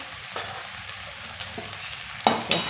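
Poha (flattened rice) stirring and frying in a pan for kande pohe, with a steady low sizzle under scraping stir strokes and a few louder clinks near the end, no talk.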